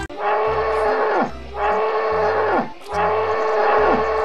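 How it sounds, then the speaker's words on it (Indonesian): A water buffalo in the video game Jurassic World Evolution 2 lets out three long, loud lowing moos, evenly spaced and close by, each trailing off into a groan. "yang ini namanya kerbau ya teman-teman"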